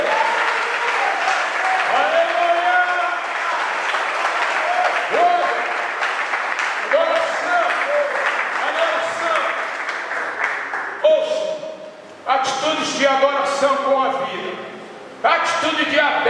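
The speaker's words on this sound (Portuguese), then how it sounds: "Você pode dar um aplauso para Ele?" Congregation applause at a church worship service, a sustained wash of clapping with crowd voices mixed in, then breaking off into choppy bursts of speech and sound toward the end.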